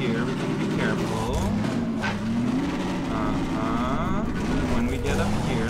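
A car engine in the video game Half-Life 2: Episode Two drones and revs steadily as the vehicle drives along a route, loud and constant the whole time.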